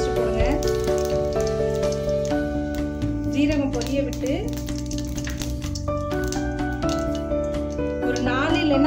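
Green chillies fry in hot oil in a kadai with a busy crackling sizzle like light rain, close and steady, while melodic music plays loudly over it throughout.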